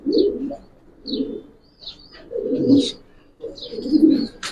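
Silver Pankhi military pigeons coo close by in four rolling bouts with short pauses between, each low throaty coo topped by a thin higher chirp.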